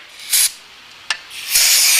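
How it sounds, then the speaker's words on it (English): Solvent is sprayed into a CZ 75 Compact pistol during cleaning, heard as three sharp aerosol hiss bursts: a short one, a quick brief puff, then a longer forceful spray that keeps going. "Because of the force of the spray, it's also considered a wash. So, spray that in there."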